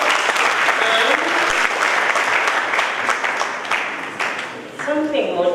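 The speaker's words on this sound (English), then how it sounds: "Can we give him a round of applause?" Audience applause at an International Mathematical Olympiad ceremony, sustained dense clapping from a large crowd, close and loud, dipping briefly before swelling again with faint voices at the end.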